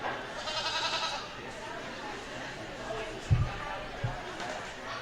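A goat at a show ring, missing his buddy, lets out a couple of short bleats at a distance amid steady crowd chatter and nearby talking.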